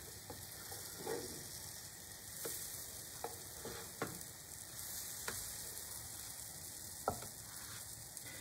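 Sweet potato pancakes frying in a pan, a soft, steady sizzle with a few faint clicks and taps of stirring or turning, no talk.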